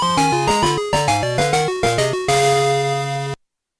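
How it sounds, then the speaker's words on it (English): A quick run of bright, square-wave notes from Pokémon Gold, Silver and Crystal hops up and down in pitch as the player leaves a slot machine, ending on a held chord that cuts off abruptly. "that is the sound of us leaving a slot machine and going to the next piece"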